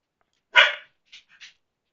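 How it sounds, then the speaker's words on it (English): A dog named Spence lets out one sharp, loud bark followed by a few quicker, fainter yips in an otherwise quiet room. "What are you barking at, Spence?"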